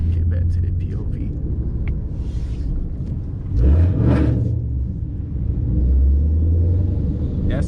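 A loud Ford Mustang GT S197 gives a double rev and pulls away: two deep, swelling engine roars over a steady low rumble, close by, with a voice talking throughout.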